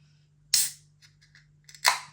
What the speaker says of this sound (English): Good levels of carbonation on the can opening.